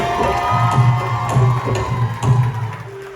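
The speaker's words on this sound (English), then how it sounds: "Give Randy a big round of applause, please." At a wedding, a crowd cheers and whoops for a few seconds, a lively wash of overlapping voices at a steady, fairly loud level.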